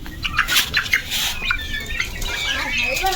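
Small desi country roosters, one weighing 434 grams, give short squawks and chirps close by, several bursts in quick succession over a quiet background.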